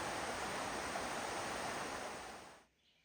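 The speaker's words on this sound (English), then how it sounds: "I love the sound of rushing water in the outdoors." Rushing stream water flowing outdoors along the Appalachian Trail between Spivey Gap and No Business Knob, a steady close broadband roar that cuts off abruptly near the end, leaving quiet.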